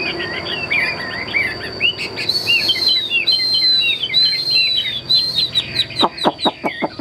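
A tame songbird kept for sale sings a loud, close run of rapid warbling phrases, ending in a burst of sharp repeated notes, with a faint insect-like buzz in the background.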